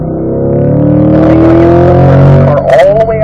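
A C8 Corvette accelerating hard on a race track, its engine note rising steadily in pitch and loudness through a gear, then a quick shift and a renewed climb, loud and close.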